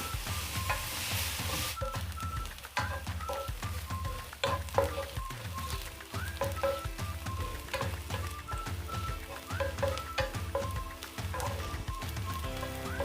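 Onions frying with slit green chillies in a pan for a pork vindaloo, a steady close sizzle with repeated stirring scrapes and clinks throughout, no voices.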